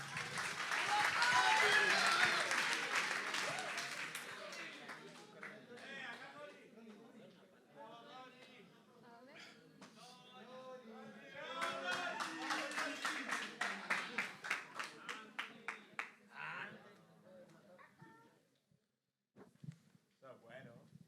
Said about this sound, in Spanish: Un aplauso para el compañero igual.